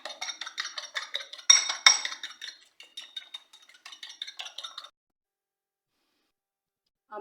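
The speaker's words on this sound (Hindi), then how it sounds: "यहाँ पे मैं लूँगी 2 अंडे। अच्छी तरह मैं इसको फेंट लूँगी।" Two eggs beaten in a bowl with rapid, rhythmic clinking taps of a utensil against the bowl, close and fairly bright, running for about five seconds before stopping into silence.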